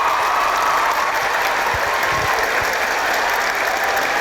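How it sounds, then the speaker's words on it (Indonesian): Studio audience at a television talk show applauding a guest, a dense sustained wash of clapping with no break, loud and close. "Kita berikan aplaus untuk Nikita Mirzani. Kita berikan aplaus untuk Thorik"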